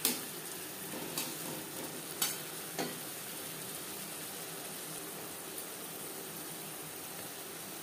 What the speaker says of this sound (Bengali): ভেজে নেওয়ার পর দিয়ে দেবো মশলার পেস্ট।